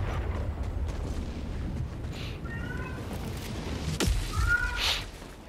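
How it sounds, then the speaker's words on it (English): In-game cat meows in Helldivers 2, two short rising calls in the middle and near the end, heard over steady explosive battlefield rumble and a sharp blast. "A goddamn cat."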